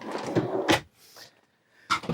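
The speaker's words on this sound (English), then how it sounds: "It's a nice drawer style, so everything comes out." A drawer-style fridge in a 2024 Kenworth T680 Next Gen truck sleeper cab slides open with a couple of close, sharp knocks and rattles, separated by brief quiet stretches.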